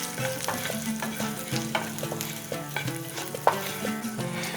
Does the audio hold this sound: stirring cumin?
yes